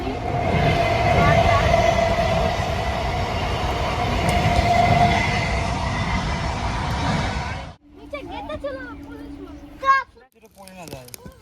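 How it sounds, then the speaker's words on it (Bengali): A train rumbles past close by on a railway line beside an open field, a loud sustained roar with rattling wagons lasting several seconds, then cutting to quieter outdoor sounds with people talking. "ওইদিকে দেখাচ্ছি আমাদের দেখো ট্রেন আসছে, তো রেল ট্রেন।"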